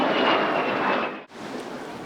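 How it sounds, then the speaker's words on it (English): A de Havilland Vampire, Norway's first jet fighter, passes at the Eastbourne Airshow 2025 with a loud, steady, close jet roar that drops out sharply for a moment and then resumes at full strength. "The Havilland Vampire, the Norway's first jet fighter."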